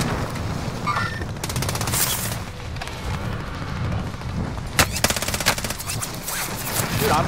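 Rapid bursts of automatic gunfire in a first-person shooter video game, several rattling volleys over a steady background din, with one sharper cluster near the end.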